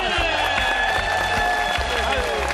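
A studio audience on a Korean health variety show claps and cheers to welcome actor Jung Eun-pyo, with steady applause filling the space and no other sound competing with it.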